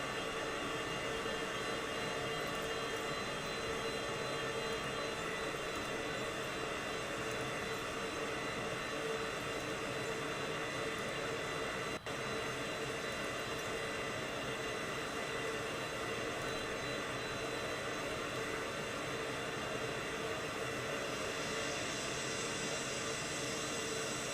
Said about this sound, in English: very slick Cessna Citation CJ4